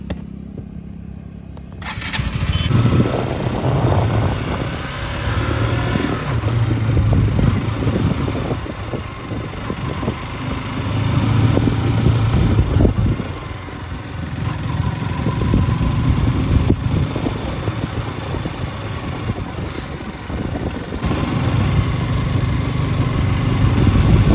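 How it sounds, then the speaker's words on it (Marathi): A KTM RC 200 BS6 motorcycle engine cranks and fires up, then runs steadily with a loud, close, continuous rumble that rises and falls slightly as it revs, with no voices. "गाडी स्टार्ट करू."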